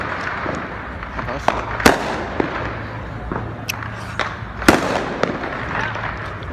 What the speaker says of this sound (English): All these explosions you're hearing.